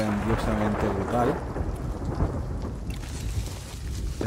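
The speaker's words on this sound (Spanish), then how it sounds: "Se acerca la tormenta y no me gusta nada porque el barco puede hundirse por acumulación de agua" A thunderstorm at sea in the pirate video game Sea of Thieves, heard from a ship: steady loud rain and rumbling thunder fill the clip, with someone speaking briefly at the start.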